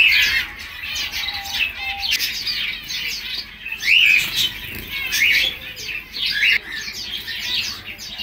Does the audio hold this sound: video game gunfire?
no